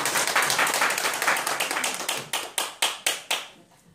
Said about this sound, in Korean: 박수도 크게 해보세요.